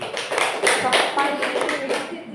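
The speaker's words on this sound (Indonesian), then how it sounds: "Tepuk tangan untuk Bu Eti." A classroom group claps together in a brief burst of applause, close and moderately loud, with voices mixed in.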